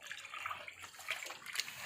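Molasses, water and a booster liquid stirred together for fermented cattle feed concentrate, giving a steady close sloshing and splashing with bright watery bursts throughout.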